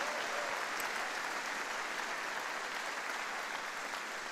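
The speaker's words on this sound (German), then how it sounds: "Und wir geben Jesus mal einen mächtigen Applaus." A church congregation applauds during a Sunday service, a dense, even wash of clapping that holds at a steady level throughout, with no voices standing out.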